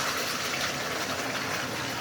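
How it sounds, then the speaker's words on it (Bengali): Marinated chicken poured into hot oil in a pan, giving a steady, loud, close hiss and sizzle that holds evenly throughout with no voices. "তেলটা গরম হয়ে গেছে, আমি এবার এই চিকেনগুলোকে ঢেলে দিলাম।"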